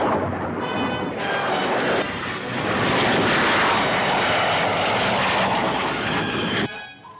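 A propeller aircraft engine drones loud and steady as a mystery plane flies overhead in a television drama, a broad roaring hum that swells slightly and then drops away at the end.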